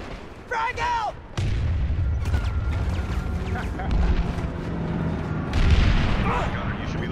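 A frag grenade detonates in PlanetSide 2 with a heavy, booming blast, followed by a rumbling low-end wash of battle noise and more distant gunfire, and a second loud burst near the end; voices chatter faintly underneath.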